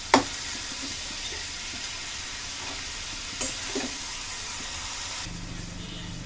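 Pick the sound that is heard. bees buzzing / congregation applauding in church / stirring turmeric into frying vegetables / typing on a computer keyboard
stirring turmeric into frying vegetables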